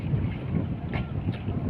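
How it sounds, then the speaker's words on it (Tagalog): Wind buffets the microphone in a continuous low rumble outdoors by a lake, with a couple of faint higher whooshes. "Mahangin guys."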